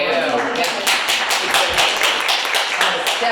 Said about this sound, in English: That was definitely hearty applause